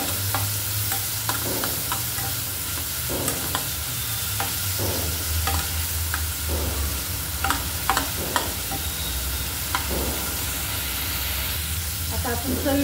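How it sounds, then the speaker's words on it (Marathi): Tomato and onion tossed into a hot frying pan and stirred, a steady sizzle running throughout with repeated scraping stirs and light clinks of the spoon, close up, with a faint voice at times. "आता आपण टाकूया टमाटर"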